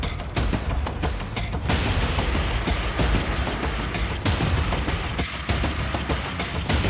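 A pool shot on a billiard table: sharp clacks of balls striking, followed by repeated clicks and knocks as the balls roll and collide, fairly close.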